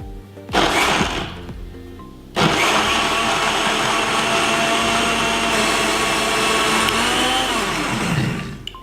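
A blender works through a warm Cambodian prahok dipping sauce mixture, giving a short whirring pulse, a pause, then a long steady loud grinding run that winds down at the end.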